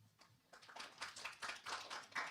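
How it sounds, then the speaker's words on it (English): An audience at a local government event claps briefly, the applause building from scattered hand claps to a steady, moderately loud round. "That did not warrant applause"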